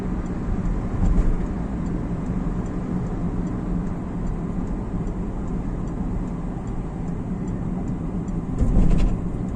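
Steady engine drone of a car in a racing video game holding speed, a continuous broad rumble with a brief swell near the end, no voices over it.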